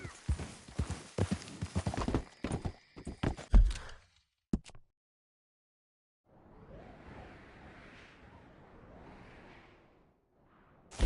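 A horse gallops in a PS4 video game, rapid clip-clop hoofbeats for about four seconds, then silence and a soft whooshing ambience.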